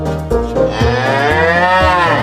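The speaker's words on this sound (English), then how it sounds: "It's cow." A cow moos one long, loud, close call that rises and falls over about two seconds, with no speech.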